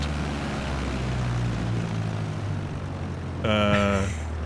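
A propeller aircraft taxis in Microsoft Flight Simulator, its engine a steady droning hum with low tonal harmonics; near the end a brief burst of higher-pitched tones rises over the drone.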